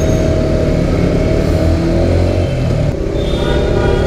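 A new motorcycle in Bangladesh, still in its break-in period, pulls away and rides slowly, its mid-pitched engine droning steadily and loudly throughout with a slight dip near the end, and no talking.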